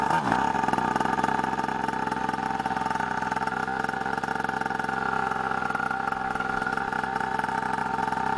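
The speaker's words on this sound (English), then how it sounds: "We have now started the bike with the choke in the down position" A 50cc pocket dirt bike engine runs steadily with the choke down, a continuous buzzing drone at a fairly constant idle that stays loud and close throughout with no talk.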